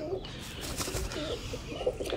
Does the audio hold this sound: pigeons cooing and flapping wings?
yes